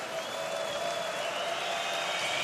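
Crowd noise fills an ice hockey arena during USA versus Kazakhstan at the 2024 IIHF World Championship, a steady roar of cheering and applause with a thin whistle-like tone running through.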